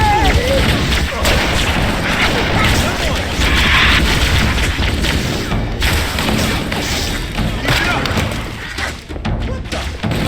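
A grenade blast from the Halo video game booms through dense, loud battle noise with continuous thuds and gunfire-like crashes, heard without a voice over it.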